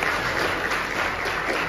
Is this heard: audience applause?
yes